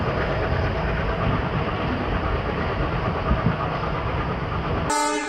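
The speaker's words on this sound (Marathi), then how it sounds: "भटकळ रेल्वे स्टेशनला सकाळी 4 वाजता ट्रेन पोहोचते." A train rolls past loudly with continuous rumbling and clattering, and a brief horn-like tone sounds at the very end.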